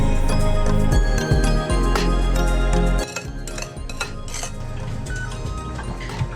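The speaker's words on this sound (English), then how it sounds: "Okay, now we're just gonna beat this." Gluten- and dairy-free sugar cookie dough is beaten in a bowl, a loud whirring hum for about three seconds that then drops off, followed by lighter clinks and scrapes against the bowl, close up and without speech.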